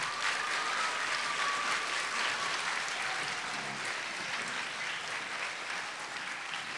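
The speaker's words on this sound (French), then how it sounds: "Alors, les enfants, est-ce que vous pouvez applaudir" Children at a Kimbanguist music concert in Brazzaville clap together in sustained, dense applause that stays steady and fairly loud throughout, with faint voices mixed in.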